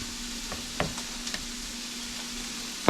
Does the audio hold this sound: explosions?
no